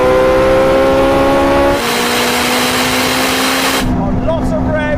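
Loud, close engine roar from a Ferrari SF90 and Porsche 918 accelerating in a drag race in manual mode, climbing in pitch with a gear change partway through, then cutting off abruptly near the end.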